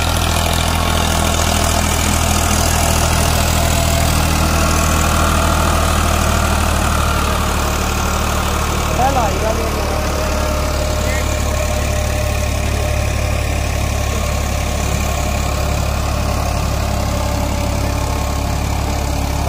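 A Farmtrac 60 tractor engine runs steadily and close, a low continuous chugging rumble throughout with no voices.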